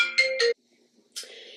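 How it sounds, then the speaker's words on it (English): Mobile phone ringtone playing nearby: two short bright melodic bursts, a brief pause, then a third longer phrase, loud and clear with no talk over it. "before my phone rang"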